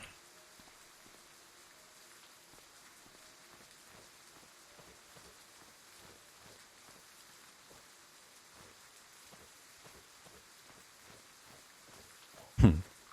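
Rain in the video game Cataclysm DDA patters faintly and steadily in soft, irregular drops, low in level throughout, with one louder sharp sound near the end.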